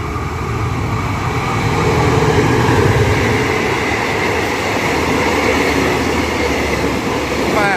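Loud, continuous roar of train wheels rolling over rails, steady and close, with a faint squeal near the end.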